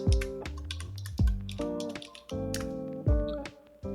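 Keys clack on a computer keyboard in short irregular bursts of typing, close and crisp, with brief pauses between runs of keystrokes as a folder name is entered.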